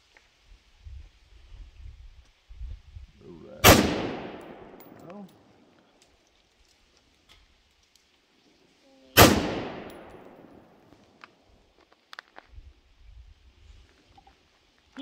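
Two loud, close gunfire bursts from an automatic AR15 pistol fired outdoors at a range, each with a long ringing decay and several seconds apart, with quiet rustling and faint background sounds between them.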